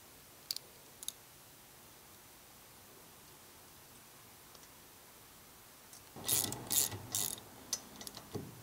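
A hand ratchet clicks as it snugs a nut onto the rear suspension spindle pin of a Datsun 260Z, first two faint isolated ticks and then a short run of louder, closer, rapid clicks near the end.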